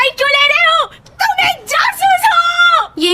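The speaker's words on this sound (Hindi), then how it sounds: "ये किसकी चीख थी?" A loud, close, high-pitched scream in several drawn-out bursts with brief breaks between them, in a tense dramatic scene.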